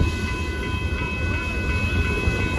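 A Kansas City Southern de Mexico mixed freight train with grain cars rumbles steadily past close by, a continuous heavy roar of wheels and cars with no voices.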